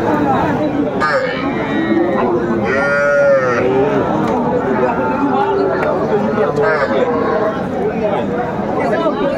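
Young bulls and calves moo repeatedly at a crowded cattle market in Faridpur, their calls rising over a constant hubbub of people haggling and chatting close by.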